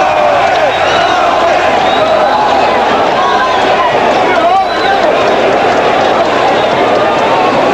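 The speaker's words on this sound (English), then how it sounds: "The chant of Gomez from this crowd here in San Juan." Arena crowd in San Juan chanting for boxer Wilfredo Gómez during a fight against Juan Laporte, a dense, loud, continuous roar of many voices with rhythmic chanting that fills the whole stretch.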